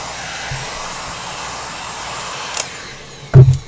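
Heat gun blowing hot air onto craft foam, a steady loud whooshing hiss that continues throughout, broken near the end by a couple of brief knocks.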